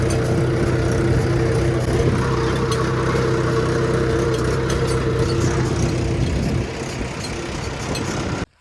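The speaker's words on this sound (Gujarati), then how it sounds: "ટ્રેક્ટર આવી ગયું છે" A tractor runs at a farm in Sayla village, its steady engine drone loud and close for several seconds, dropping to a lower, quieter rumble near the end before cutting off abruptly.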